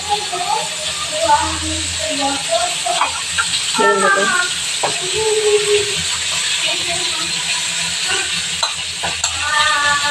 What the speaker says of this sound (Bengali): এইদিকে আবার যে ইলিশ মাছ ভাজলাম, তো এখনো ভাজতেছি